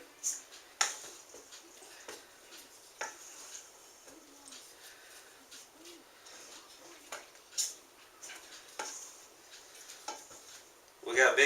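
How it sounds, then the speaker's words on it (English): A spoon mixes a big batch of cornbread dressing made from boxed Jiffy cornbread mix in a pan or bowl, with repeated soft scraping and stirring and occasional sharper knocks and clinks, close, with a faint background sizzle. "We're going to kind of go ahead and mix the rest of this together."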